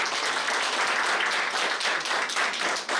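An audience applauds after a speech about Duarte at a commemorative event, with sustained clapping that fills the room loudly and evenly and sags briefly near the end before carrying on.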